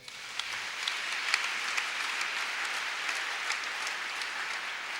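A church congregation applauding, a sustained even wash of clapping from many hands with a few sharper claps standing out, filling the room with no speech.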